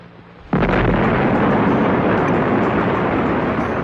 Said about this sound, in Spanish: Ver la explosión de una bomba en el desierto de Nevada puede parecer hoy en día algo trivial